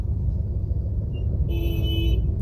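A car horn honks in a traffic jam in Chakan, one sustained toot near the end preceded by a faint short beep, over a low continuous rumble of idling vehicles.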